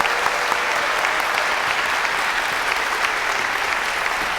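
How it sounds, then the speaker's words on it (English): Audience applause at a university innovation prize finals event, a steady dense wash of clapping from a sizable crowd filling the whole stretch without a break. "let's give you guys a round of applause"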